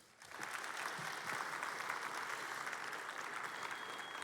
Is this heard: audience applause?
yes